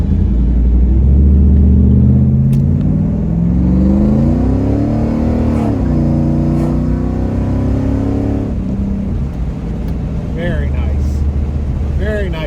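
A 1985 Pontiac Trans Am with tuned port injection revs up from idle and accelerates hard from a standstill in first gear, rising in pitch through the gears, loud and close with wind noise.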